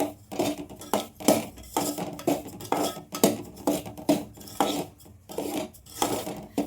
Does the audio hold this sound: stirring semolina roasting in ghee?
yes